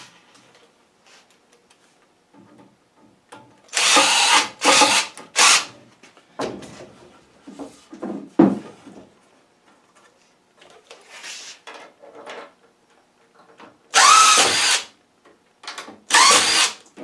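Power drill driving 3-inch screws into a wooden deck railing, several loud bursts of whirring spaced apart with quieter handling noises and knocks between them, close by.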